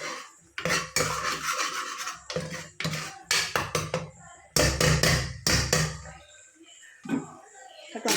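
Mutton masala frying in a pan as a metal spoon stirs and scrapes it, with repeated irregular clinks and scraping bursts separated by short pauses, close and fairly loud, under the quiet sizzle.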